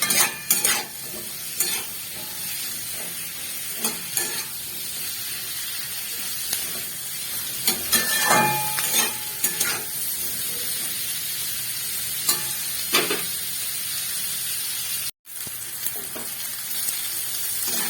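Sliced onion and capsicum fry over a high flame for chilli chicken, a steady sizzle broken by repeated scraping stirs of a spatula against the pan, close and continuous with no talking.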